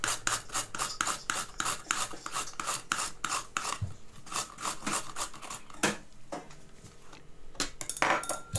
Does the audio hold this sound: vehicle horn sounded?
no